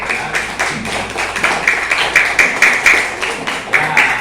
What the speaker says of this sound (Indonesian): Ada tepuk tangan, bagus.